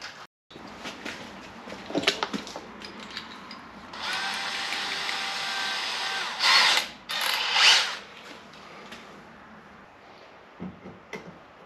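A small drill bit starts a hole in a 1025R hydraulic suction tube: a few short bursts, then a sustained whining run of several seconds, a couple of louder surges, and quiet clicks afterward, close by with no talking.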